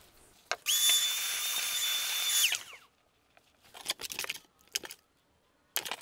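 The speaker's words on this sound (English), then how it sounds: "So go ahead and screw this one down" A power drill drives a screw into a boat seat pedestal with a steady high whine for about two seconds, followed by clattering and handling noises of parts and tools nearby.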